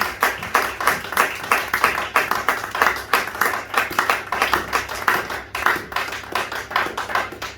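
A church congregation claps to acclaim the Lord, a dense run of rhythmic hand claps at steady, fairly even beats filling the room, with faint voices mixed underneath.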